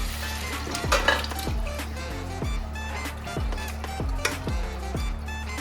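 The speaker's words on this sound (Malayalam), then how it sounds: "അപ്പോൾ നമ്മൾ വേവിച്ച് വെച്ച ബീഫ് നമ്മൾ അതിലേക്ക് ഗ്രേവിയിലേക്ക് ചേർത്തിട്ടുണ്ട്. ഒന്ന് മിക്സ് ചെയ്തിട്ടുണ്ട്." Cooked beef being stirred into gravy in a pan, with steady soft sizzling and repeated scraping stirs of a utensil against the pan, accompanied by a faint background hum.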